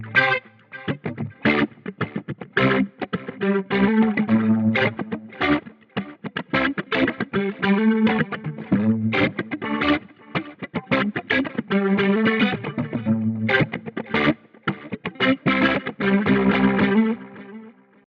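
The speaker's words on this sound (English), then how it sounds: "Rotary sounds awesome on the GX100." An overdriven electric guitar riffs steadily with a swirling, warbling rotary speaker effect from a GX100 processor, loud and continuous without any talking.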